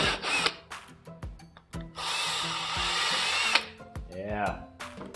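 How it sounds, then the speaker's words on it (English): A power drill bores holes in PVC pipe, one long loud whirring run in the middle and a shorter burst near the start, with clicks and handling knocks between and a brief pitch sweep near the end. "going to drill these holes out"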